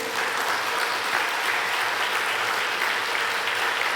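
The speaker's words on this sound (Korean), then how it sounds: "그래도 박수 소리가 긴 거 보니까 마음이 있는 것 같습니다." A church congregation applauds at a choir joint dedication worship service in Daegu, a dense, steady, sustained clapping that fills the whole stretch without a break.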